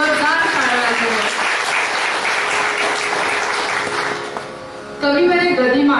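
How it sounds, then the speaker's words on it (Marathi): An audience applauds loudly at a celebration at P S B A English School, a dense continuous clatter of many hands, with voices heard at the start and end. "आजच्या कार्यक्रमाचं सगळ्यांनी जोरदार टाळ्या वाजवल्या."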